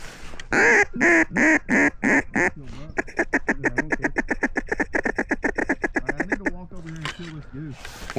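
Ducks quack loudly and close on a flooded grass field during a duck and goose hunt, a fast run of rhythmic repeated quacks, probably from a call, with a few honks and brief talk near the end.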